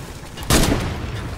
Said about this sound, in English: I hear the shooting.